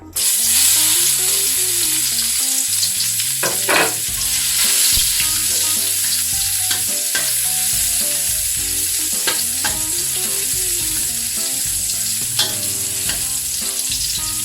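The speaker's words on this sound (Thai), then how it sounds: "ลดไฟลงนิดหนึ่งนะคะใส่กระเทียมลงไปเจียวเลยค่ะ" Garlic fries in oil in a wok for Thai shrimp fried rice: a loud, close, continuous sizzle with intermittent stirring scrapes, while tuneful background music plays underneath.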